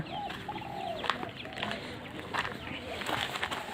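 Several chickens cluck softly and intermittently nearby, short fowl calls scattered over a quiet background with faint talk.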